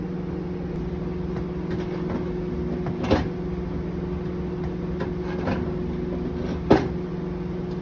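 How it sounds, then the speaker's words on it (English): Steady low electrical hum of a microwave oven cooking salsa, with a few faint clicks and bumps scattered through, no voices. "I have the salsa in the microwave now cooking"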